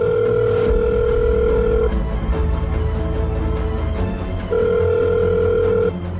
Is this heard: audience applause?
no